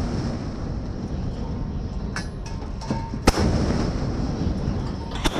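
A Mark 45 naval cannon fires with a sharp, loud report, followed by a few smaller cracks against a steady roar of wind and background noise.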